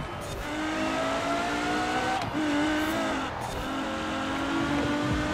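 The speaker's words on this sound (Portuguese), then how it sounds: "Essa Ferrari FXX 2005, cara. Olha o som desse motor." A 2005 Ferrari FXX racing in Forza Horizon 4 holds a loud, steady high-revving engine note with shifting harmonic tones, dipping briefly between gear changes, with faint tire noise underneath and no talking.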